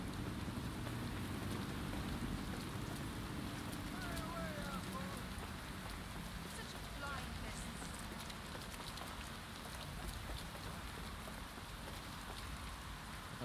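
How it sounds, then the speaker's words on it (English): Steady rain falls continuously in Watch Dogs: Legion, a dense hiss of drops pattering on surfaces with no pauses. "It's raining out here."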